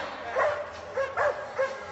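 A dog barking at a dock-jumping competition, four short, sharp barks in an uneven rhythm, close and fairly loud, with no talk.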